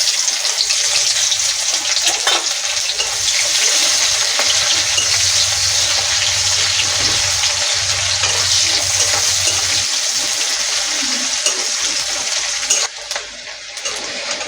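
Chopped onion sizzles in hot oil with a dry red chilli while cooking doi katla fish, a loud continuous hiss that runs steadily and drops away near the end.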